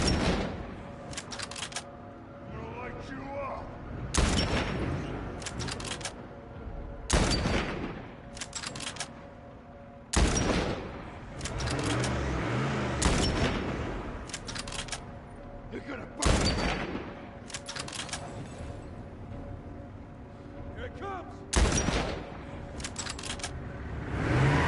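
Repeated loud bursts of gunfire from The Last of Us Part I, punctuating a steady bed of game noise with sharp volleys every few seconds.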